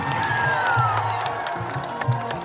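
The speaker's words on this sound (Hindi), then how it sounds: "तो एक जोरदार ताली संजय भैया के लिए हल्ला करके बजाओ।" Crowd clapping and cheering at an outdoor stage show in Bhagalpur, a dense steady roar of applause with scattered whoops and shouts throughout.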